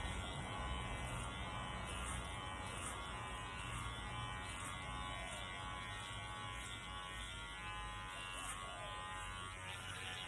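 Electric hair clippers trimming hair at the back of the head, a constant close buzzing hum running steadily and unbroken with slight rustle of cutting, no talk over it.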